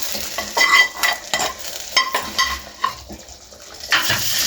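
Hot baghar poured onto spinach kadhi, giving a bright crackling sizzle with utensil clinks and stirring scrapes that fade, then flare briefly again.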